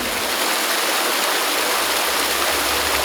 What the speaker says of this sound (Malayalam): ഉടൻ തന്നെ വെള്ളം പാഞ്ഞൊഴുകി.